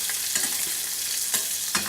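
Filet mignon sizzles in a pan while being basted in its own juices, giving a steady close frying hiss with a few sharp spoon clinks and spatters.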